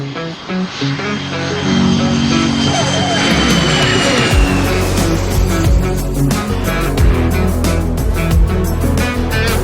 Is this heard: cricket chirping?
no